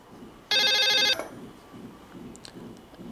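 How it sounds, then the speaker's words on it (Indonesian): A telephone rings with an incoming call: one sustained electronic ringtone burst of about half a second, loud and close, then quiet room ambience. "Bentar, ada telepon masuk."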